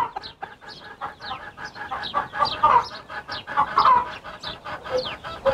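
Sultan chicken hens and chicks cluck and peep continuously in a busy coop, rapid overlapping chirps from several birds close by, with a few louder clucks rising in the middle.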